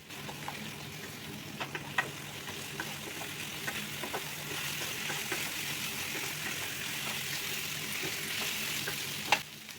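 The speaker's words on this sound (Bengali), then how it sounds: "নুন আর হলুদ দিয়ে আলুটাকে আবারও নাড়াচাড়া করে ভেজে নেব।" Potatoes seasoned with salt and turmeric fry in a pan and are stirred now and then, a steady soft sizzle broken by occasional utensil scrapes and one sharper clink near the end.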